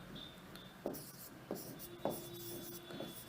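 Pen or chalk scratching out a Sanskrit word by hand during a grammar lesson, a few brisk strokes with short taps, close and moderately quiet over a faint steady hum.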